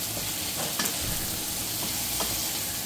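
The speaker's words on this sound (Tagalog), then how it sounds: "Ihalo natin yung onion. Red onion." Red onion sizzles and is stirred in a pan with meat and its rendered fat, with no added oil. The frying hiss is constant and close, broken by a few soft scrapes of the spoon.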